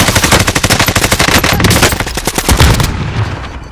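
Rapid automatic gunfire in Call of Duty: Warzone rattles loudly and continuously, then gives way to a few scattered shots and a fading tail.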